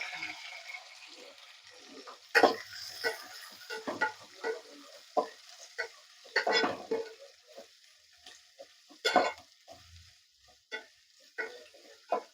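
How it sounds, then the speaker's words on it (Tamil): Onions sautéing in a pan for a home-style Tamil fish curry, with soft sizzling and irregular stirring scrapes and clatters spread through, louder bursts of spatula contact here and there, fairly close and without talk. "இப்போ வெங்காயம் போட்டுக்கலாம். நல்லா வதக்கிடலாம்."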